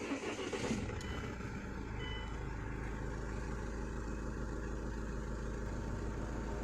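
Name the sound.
Mahindra SUV500 engine starting and idling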